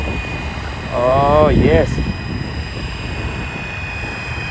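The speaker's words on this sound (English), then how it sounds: "this is the first time I'm really enjoying flying a RC helicopter" A Flywing Bell 206 V3 scale RC helicopter flying outdoors, its rotor and motor giving a steady whine under a brief spoken exclamation.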